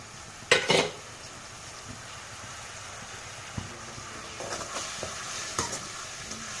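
Puliyogare mixture being stirred in a pan, with a few sharp scraping clatters of the spoon against metal over a soft background sizzle, quiet and close, without talk.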